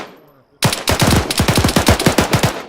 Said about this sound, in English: We just fucking took shots from behind us.